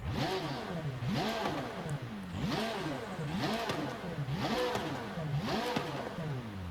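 A Corvette race car's flat-plane-crank V8 in Forza Horizon 5 revs repeatedly, climbing and falling in pitch in a steady cycle of five or six loud sweeps.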